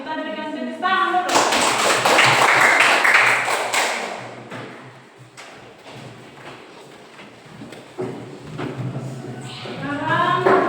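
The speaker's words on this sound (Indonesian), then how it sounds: "kita berikan tepuk tangan dulu" Children in a classroom break into loud applause after a group's correct answer, the dense clapping lasting a few seconds, then thinning into scattered claps and chatter, with a teacher's voice talking at the start and end.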